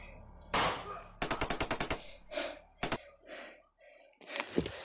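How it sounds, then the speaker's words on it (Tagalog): Rapid bursts of automatic gunfire ring out ahead during an ambush, a fast volley of sharp cracks followed by scattered single shots, moderately distant and echoing, with no talk over them. "May putukan sa unahan."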